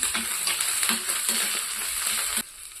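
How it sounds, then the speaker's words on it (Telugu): Cashews frying with pepper powder and ginger in a hot pan for curd poha, a steady close sizzle with faint stirring scrapes that cuts off near the end. "జీడిపప్పు వేసి వేయించుకొని మిరియాల పొడి అల్లం వేసుకొని"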